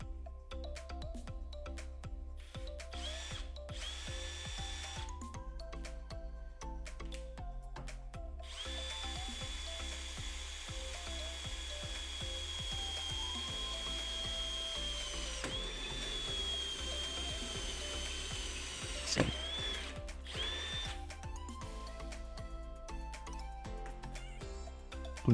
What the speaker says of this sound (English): we now need to drill a hole, and we're using a 6mm drill